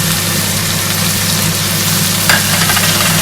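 Tomatoes with salt, crushed red chilli and turmeric sizzle steadily in a karahi while being mixed, a constant close frying hiss with a low hum underneath and one brief scrape of the spoon.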